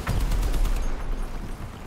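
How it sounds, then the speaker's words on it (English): Gunfire in the vehicle combat game Crossout: a dense burst of loud booming shots and rumbling impacts at the start, fading into a rougher, quieter rattle. "gunfire."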